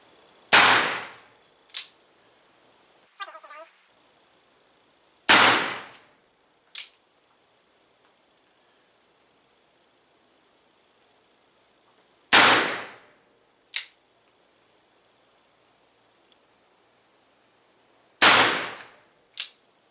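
A Pietta Spiller & Burr black powder revolver fires at a target, four sharp loud reports spaced several seconds apart, each trailed by a quick echo off the range, with quiet between shots.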